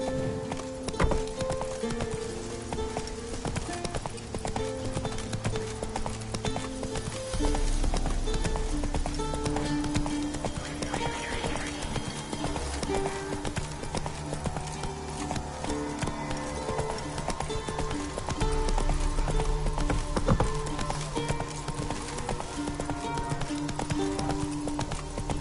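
Horse hooves clip-clop at a gallop in The Witcher video game, a steady rapid drumming of hoofbeats close by that continues throughout, with a faint whinny and game ambience.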